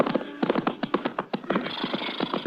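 Horse hooves clip-clopping at a steady walking pace, a close and distinct radio drama sound effect for a Western ride into the hills, with no voices over it.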